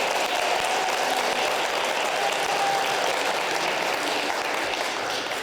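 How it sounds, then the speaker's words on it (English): Audience applause for Miyako at an international school literacy celebration in northern Japan, a steady, dense wash of clapping from a crowd that holds evenly for several seconds without fading. "Let's give a round of applause for Miyako."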